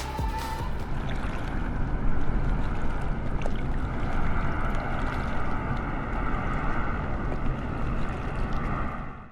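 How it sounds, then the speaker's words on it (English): Aircraft engine drone from Microsoft Flight Simulator 2020, flying among mountains. The broad, steady roar echoes and reverberates off the slopes, continuous and fairly loud throughout with no voices. "This is an example they used of the aircraft in the air and how it sounds as it's reflected and bouncing around because of the mountains."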